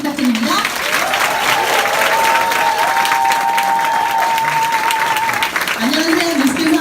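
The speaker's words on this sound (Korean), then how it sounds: "차지혜 사장님 오실 때 큰 박수 부탁드립니다" Audience applause at a Nu Skin business event in Busan, greeting someone speaker taking the stage; steady dense clapping fills the whole stretch, with a sustained tone and some crowd voices underneath.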